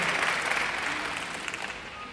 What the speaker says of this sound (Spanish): Pido un aplauso para la mujer que ha acompañado a su marido